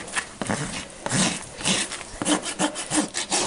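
A farrier's rasp files the toe of a horse's hoof during a barefoot trim, with rough, close, rhythmic scraping strokes repeated steadily.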